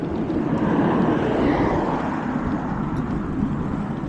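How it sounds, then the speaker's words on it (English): Loud, steady rumbling roar of a helicopter passing close by on the other side of a fence, continuous throughout with no talk over it. "There's probably a chopper on the other side of the fence"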